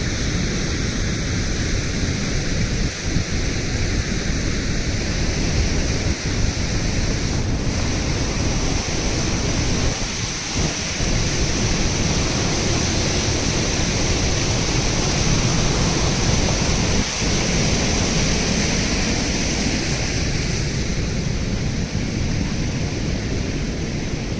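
A waterfall beside a bridge in the Scottish Highlands, a steady, loud, broadband rushing roar of falling water that persists unbroken throughout, with occasional faint thuds.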